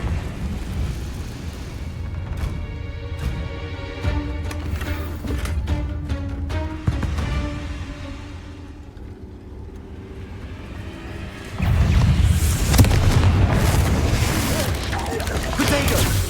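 A Confringo fire spell bursts in a Harry Potter video game, a heavy rumbling blast that swells loud and sustained amid rolling booms and crackling game effects.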